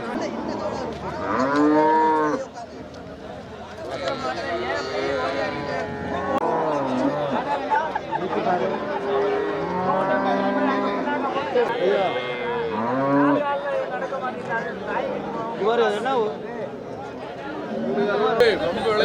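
Cattle at the Manapparai cattle market in Tamil Nadu moo repeatedly in loud, drawn-out calls, near and far, over busy crowd chatter and people talking throughout.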